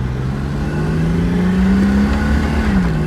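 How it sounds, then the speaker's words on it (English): A 1969 Mercedes-Benz 280 SL pulls in second gear, its engine note rising steadily as it accelerates, heard from inside the car at close range and loud, with no talking. "we can listen to the engine together"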